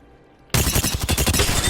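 Wingman pistol fire in Apex Legends starts abruptly after a short quiet stretch, then runs as a loud, dense string of rapid shots with no talking over it.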